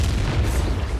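A fiery Incendio spell blast in Hogwarts Legacy combat, a dense, steady rumbling burst with heavy low-end boom sustained throughout, loud and close with no pauses.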